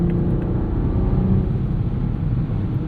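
A 2024 Toyota Supra 45th Anniversary Edition MK5 with a six-speed manual and BMW B58 engine cruising, giving a steady low engine rumble and road drone from inside the cabin, loud and continuous.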